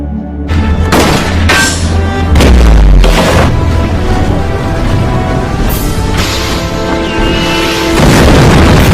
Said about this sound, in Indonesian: Dan akhirnya kapal yang mereka tumpangi ditembak dan meledak.